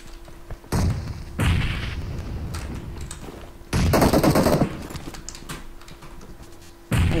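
Gunfire bursts in a PUBG Mobile firefight, with loud, close rapid shots in several clusters and a steady tone running underneath.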